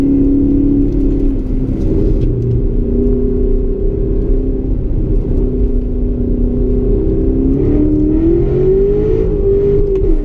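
A loud 627-hp Callaway Corvette engine drones at high revs through a fast lap of a figure-eight track, pitch holding steady then climbing as it accelerates, with no talking.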